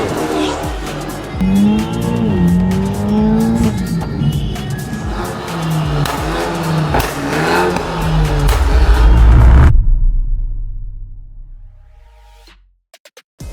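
A Toyota Supra 2.0 fitted with a full titanium Veleno Performance catback exhaust, revving repeatedly with rising and falling pitch, loud and close, ending in a sharp cutoff and near silence.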